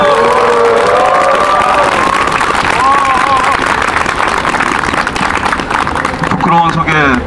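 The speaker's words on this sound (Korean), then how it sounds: "박수 부탁드리겠습니다." At an outdoor lawyers' street rally for democracy at Bosingak in Seoul, a loud, continuous wash of crowd clapping and cheering fills the space while voices rise over it.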